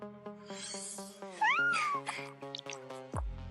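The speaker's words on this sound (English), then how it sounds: "Meow. Hungry, little kitty?" A small cat meows over a steady musical score, a single drawn-out rising and falling call standing out clearly and close.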